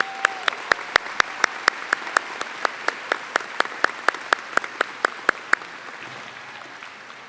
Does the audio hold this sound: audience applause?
yes